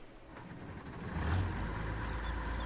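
Large farm harvester engine in a farming video game, idling at first and then rising to a louder, steady low rumble that holds to the end.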